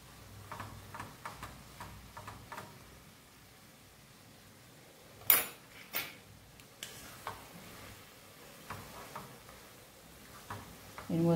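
Green papaya curry being stirred with ghee and garam masala in a pan, giving soft scattered scraping and clicking taps with a couple of louder knocks over a quiet sizzle, close and fairly faint.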